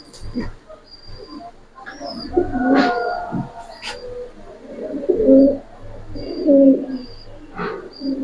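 Silver racer pigeons in a sales loft give low throaty coos in repeated bursts, close and moderately loud, among faint higher chirps and occasional rustling.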